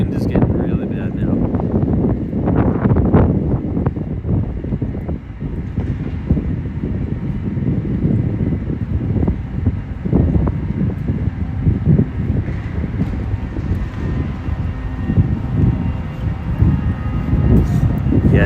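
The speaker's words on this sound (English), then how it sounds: "the wind is getting really bad now." Strong wind buffets a microphone on a Midtown Manhattan street, making a loud, steady, low rumbling roar across the whole stretch, with a voice talking underneath it at times.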